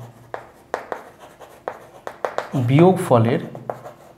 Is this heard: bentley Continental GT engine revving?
no